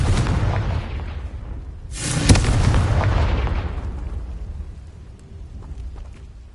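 A single heavy blast from the Confringo explosion spell in Hogwarts Legacy, a sudden loud boom that rolls and fades away over several seconds, with no talking.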